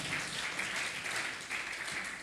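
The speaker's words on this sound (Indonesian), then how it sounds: "Tepuk tangan buat Tuhan Allah kita" A church congregation applauding during a sermon, a continuous patter of many hands clapping at moderate distance, steady and fairly soft for the whole short stretch.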